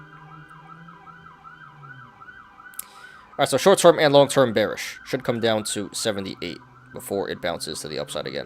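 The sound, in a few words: emergency vehicle sirens outside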